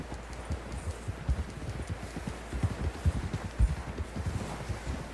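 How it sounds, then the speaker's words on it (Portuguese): Horse hooves galloping in the video game Red Dead Redemption 2, a steady rapid clip-clop of hoofbeats over a constant low rumble of wind and movement, moderately loud and continuous throughout. "Use o triângulo para montar seu cavalo."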